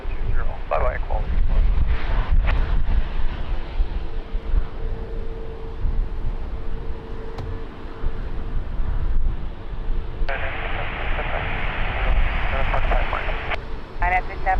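Strong wind buffets the microphone at Lisbon Airport, a loud continuous rumble and roar throughout, with aircraft noise and radio voices from the control tower heard over it.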